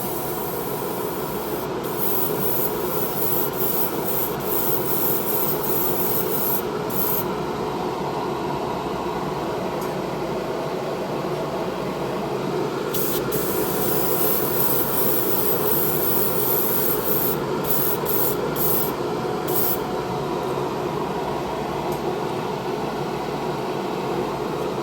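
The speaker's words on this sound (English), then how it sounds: "Airbrush always beats rattle cans." Airbrush spraying candy paint with a 0.66 setting, giving a continuous loud hiss of air and spray that runs the whole time, with a few brief tonal blips and no talking.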